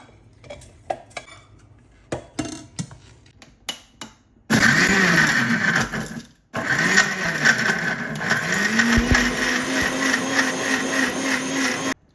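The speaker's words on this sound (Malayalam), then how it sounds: "അതും കൂടെ നമുക്ക് മിക്സിയുടെ ജാറിലോട്ട് ഇട്ട് കൊടുക്കാം" Utensils clink and tap a few times, then a mixer grinder blending tomato, curry leaves and spices for rasam roars loudly, pauses briefly, and whirs again steadily to the end.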